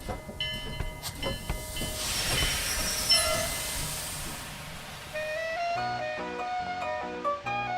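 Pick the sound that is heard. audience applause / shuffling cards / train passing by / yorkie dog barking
train passing by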